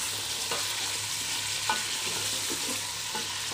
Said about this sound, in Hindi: अब हम इसको चिकन में फ्राई करेंगे।